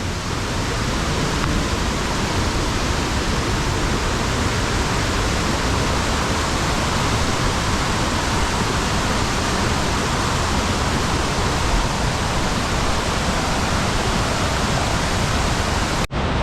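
Kuang Si waterfall in the forest of northern Laos roars as a steady, loud broadband wash of falling water that continues unbroken from near by for the whole stretch, with no voices, before it cuts off abruptly at the end.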